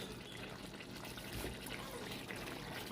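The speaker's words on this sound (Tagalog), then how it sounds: "Lagyan natin ng pati tubig" Water poured into a pan of pork black beans with tofu, a steady continuous splashing and trickling that stays even throughout, with no voices.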